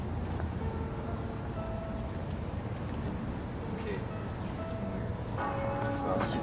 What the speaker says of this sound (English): Yo, is that a bell?